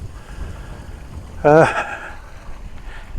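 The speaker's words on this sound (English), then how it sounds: "behind me, as you can most probably hear, is what we call an artesian well" Artesian well water flows at Harty Ferry, an RSPB marshland site, as a steady rushing hiss throughout, with wind. A brief tonal call briefly rises above it around the middle.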